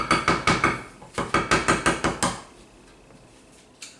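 Quick rhythmic knocking of a utensil against a dish while mixing tuna casserole, about a dozen sharp taps in two bursts, then a quiet pause and one last tap.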